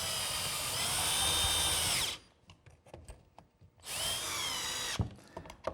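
Power drill with a long screwdriver bit driving a screw into a glued cupboard rail joint, whining in two loud bursts separated by quieter handling noises.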